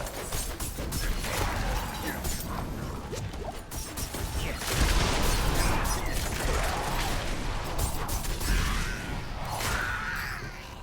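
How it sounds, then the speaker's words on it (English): Cannon fire in the action game Diablo IV: repeated booming blasts and crashing impacts amid busy combat effects, loud and dense throughout, with no talking over it. "Someone shooting a cannon at me?"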